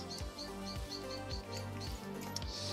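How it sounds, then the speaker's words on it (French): Birds chirp in short repeated calls at night near a Nissan 350Z under repair, faint and rhythmic over a low steady hum. "C'est la nuit et les oiseaux ils s'excitent."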